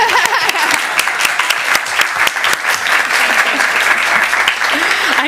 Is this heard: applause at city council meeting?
yes